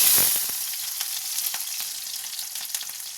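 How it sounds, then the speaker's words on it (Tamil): Onions and curry leaves sauté in hot oil for a pumpkin curry, a loud sizzle at first that settles into a steady crackling fry with light scraping and stirring taps, close by with no talking. "கருவேப்பிலை, வெங்காயமெல்லாம் போட்டு வதக்கிடணும்."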